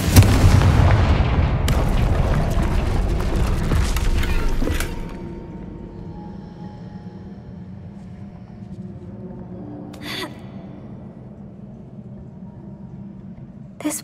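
A Confringo blasting spell in the Hogwarts Legacy video game sets off a loud booming explosion with rumbling debris for about five seconds, then it drops to a quiet ambient hum with a brief crackle later.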